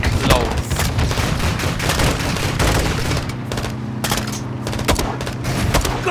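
Rapid gunfire bursts and booming shots in the Call of Duty Modern Warfare 2 campaign, loud and sustained across the whole stretch, with a low rumbling backdrop of combat.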